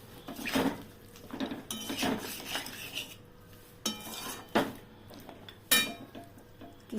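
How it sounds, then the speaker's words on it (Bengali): Meat cooks in a pan with soy sauce and no oil, stirred by a utensil that scrapes and clinks against the metal in irregular strokes, with faint sizzling underneath. "আমি এটা আরেকটু কষিয়ে নেব"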